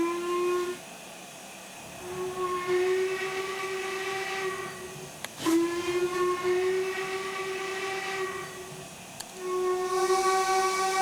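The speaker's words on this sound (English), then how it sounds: "if you press B, it plays a alternative whistle sound" Steam whistle of an LMS Black 5 locomotive in a train simulator game, an alternative whistle tone sounding in three long, steady blasts separated by pauses, loud and clear with no talk.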